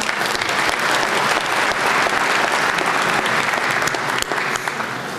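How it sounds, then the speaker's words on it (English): Hundreds of registered voters at a Scituate town meeting applaud themselves, producing a thick, continuous roar of clapping through a large room that dips slightly just before it ends. "Please give yourselves a round of applause."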